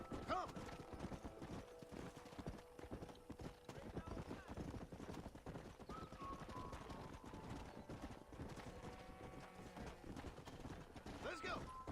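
Horse hooves clip-clop steadily during a ride in the video game Red Dead Redemption, a continuous galloping rhythm with occasional whinnies and someone talking over it.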